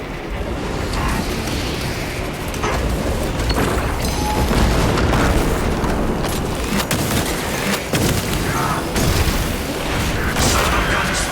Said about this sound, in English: Eradicate the Xenos crawlways with the melter charges.